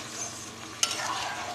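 Fish fry salan is stirred gently in a pan, soft scraping over a faint simmering sizzle with one sharp clink of the spoon midway, quiet and close.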